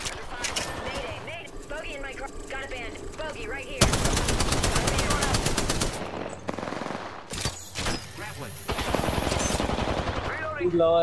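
Rapid automatic gunfire from an Apex Legends match, dense bursts of shots with loud sustained volleys around the middle and near the end, mixed with game effects and players talking over it.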